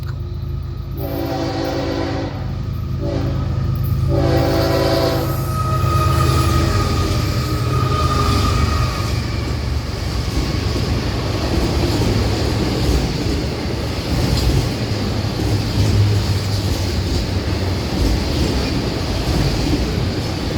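A Florida East Coast Railway freight train in St. Augustine sounds several loud horn blasts in a rhythmic pattern, then rumbles past with heavy rolling wheel noise and clatter from empty flat cars.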